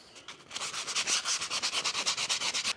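Rapid back-and-forth rubbing of 320 grit flexible plastic-backed sandpaper on a machined lid, about a dozen even, scratchy strokes close up with no talking.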